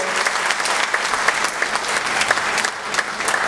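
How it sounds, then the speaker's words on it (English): Crowd at an Elvis Week tribute show in Memphis gives Scott Michael MacDonald a sustained round of applause, dense clapping with sharp individual claps standing out, loud and even throughout. "And a big round of applause, one more time"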